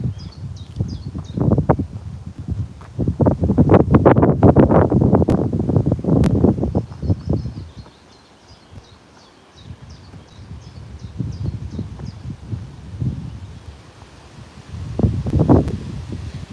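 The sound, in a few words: breezy wind outdoors, wind on microphone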